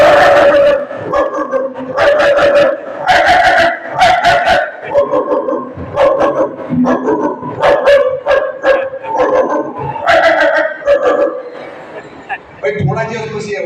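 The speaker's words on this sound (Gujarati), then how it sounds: "ઓ સાંભળજો કૂતરાનો અવાજ" A dog barks repeatedly in short bursts near a house at night, loud and close, with yips mixed in and a voice talking at the end.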